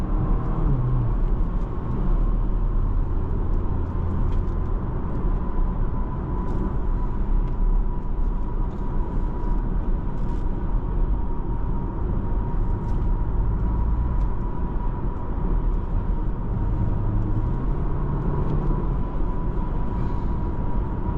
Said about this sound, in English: You just rev it out like that.